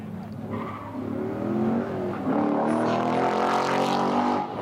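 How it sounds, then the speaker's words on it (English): A C7 Corvette drives past with a steady, fairly quiet engine note that swells slightly toward the middle, with a faint tire squeal near the start. "another C7 Corvette here. This one's a lot quieter."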